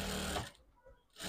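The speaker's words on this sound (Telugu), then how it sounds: "మీకు వీలైతే పాదాన్ని ఎత్తుకుంటూ మరీ స్టిచ్చింగ్ అనేది చేసేసుకోండి" A sewing machine stitches a princess cut blouse in a short quick whirring burst that stops and restarts, close and moderately quiet, with someone speaking over it.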